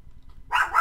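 A small chihuahua barks from the back of a room, two quick sharp yaps close together after a brief near-silent pause.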